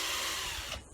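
A power drill runs continuously on a track part, a steady high whir that holds for about a second before trailing off near the end.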